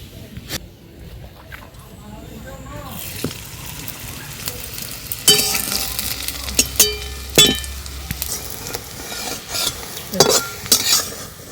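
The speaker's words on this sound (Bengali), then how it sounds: "এইভাবে লাল লাল করে ভেজে নিচ্ছি প্রত্যেকটা ভেজে নেব এইভাবে" Semolina sandwiches shallow-fry in a wok with about a spoonful of oil, a soft sizzle mixed with metal spatula scrapes and clinks that turn louder and choppier midway, while a voice talks at times.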